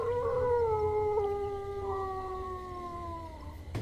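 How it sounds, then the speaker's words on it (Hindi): Dogs howling somewhere far off at night, several long wavering drawn-out cries overlapping and slowly falling in pitch, steady and fairly faint across the whole stretch, with no talking. "दूर कहीं से कुत्तों के रोने की आवाज आ रही है"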